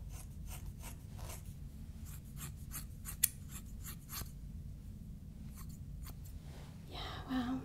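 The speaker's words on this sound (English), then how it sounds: "Let's use these scissors." Scissors cutting hair in a quick, irregular series of close, crisp clicks, one sharper snap midway, then a soft rustle at the end.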